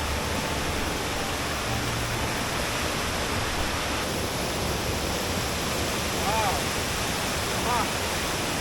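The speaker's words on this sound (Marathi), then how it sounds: "समोर पाहत हा त्याचा धबधबा आहे." A constant, dense roar of the Savatkada waterfall in Konkan fills the scene, loud and unbroken, with faint background sounds barely rising above it.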